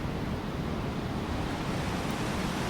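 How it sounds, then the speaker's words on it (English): Ocean waves roll up a beach in a steady, unbroken wash of surf noise, close and even throughout, with no voices. "waiting for the waves to roll up the beach so they could feel the cool water surround them"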